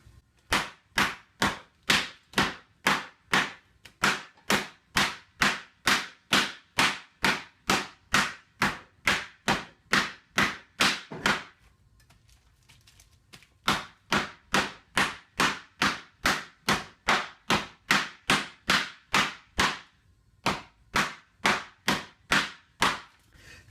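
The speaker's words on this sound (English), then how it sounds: "now we're going to pound this thing flat to about 1/4 inch thick" A new meat hammer pounds schnitzel flat to about a quarter inch thick: dozens of sharp, evenly spaced thwacks close by, with a short pause midway before the steady pounding resumes.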